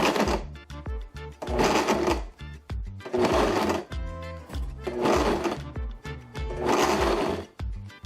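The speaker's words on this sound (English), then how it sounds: "Okay, you see how easily it pulses when you got a Blendtec" A Blendtec blender pulses jalapeno crema in about five loud, close bursts of whirring motor roar, each separated by brief pauses with faint clatter.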